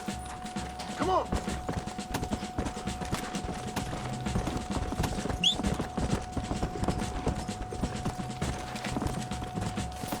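Horse hooves clip-clop steadily in Red Dead Redemption, a repeated rhythmic patter mixed with game ambience, creaks and a brief whinny-like cry.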